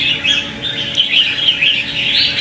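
A red-whiskered bulbul sings in repeated bright, warbling phrases, loud and close over faint background hiss, with no talk.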